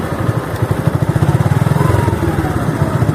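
A motorcycle being ridden on a road trip, its engine putting out a loud, close, rapid pulsing throb that stays steady over a rushing background with no talk.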